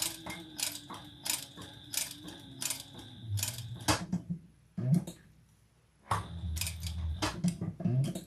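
Scissors snip through fabric along a marked line during a sewing project, a run of sharp close cuts in rhythmic bursts, then a brief pause and more cutting.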